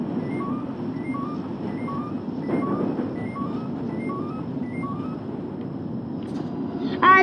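A safety alarm on a Northern Line train in the OpenBVE simulator: a repeating two-tone electronic beep at a steady rhythm, clear above a constant low train rumble, with a brief faint sound near the end.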